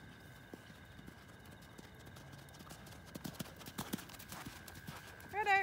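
A mare canters in an arena during jumping schooling, her hooves clip-clopping in an irregular three-beat rhythm that grows louder toward the end, with a brief whinny-like sound at the close and a rider's voice faintly under it.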